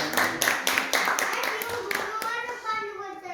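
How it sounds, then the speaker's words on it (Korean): Church congregation applauding together during a Sunday service, a dense burst of clapping that stays steady for a few seconds before thinning out, with children's voices mixed in. "하나님께 영광의 박수 드립니다"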